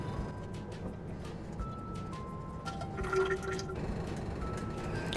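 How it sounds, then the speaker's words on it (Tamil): Dissolved jaggery syrup strained through into a pan for sweet pongal, a continuous gentle pouring and trickling of liquid that thickens slightly toward the end. "நம்ம ஆல்ரெடி தண்ணியில் கரைச்சி வச்சுருக்கிற பாகை இதுக்குள்ளே வடித்து சேர்த்திடலாம்"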